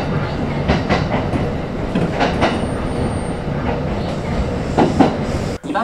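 A Kintetsu Nagoya Line train pulls into Isuzugawa station, wheels clattering steadily over the rails with brief squeals, loud and close throughout.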